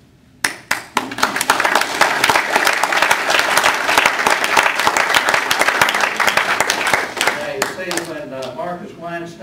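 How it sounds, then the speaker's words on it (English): An audience bursts into applause after an author's book talk at a university event: a few sharp opening claps swell into dense, sustained clapping, which thins out near the end as a voice begins talking. "I didn't know you were going to start the applause"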